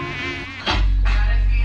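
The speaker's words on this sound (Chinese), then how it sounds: "打蚊子版。" A mosquito's thin, high whine drones close and loud in a mosquito-swatting parody, cut by a sharp slap, then a deep steady hum with the buzz returning over it.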